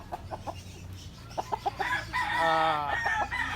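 A round head gamefowl rooster, a white-legged sweater, crows once up close after a few short clucking bursts, its drawn-out call ringing clearly over low background hum.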